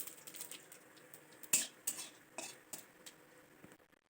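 Boiled gourd leaves are stirred in a wok, giving soft, intermittent scrapes and light clinks of a utensil against the pan, faint and unhurried, with no voices.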